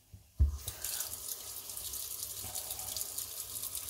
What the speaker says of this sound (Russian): Будем промывать наши баклажаны